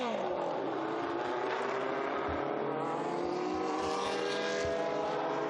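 A historic BMW M1 race car roars past on the Estoril circuit, a loud, steady engine note that swells and shifts pitch as it comes through, with no talk over it.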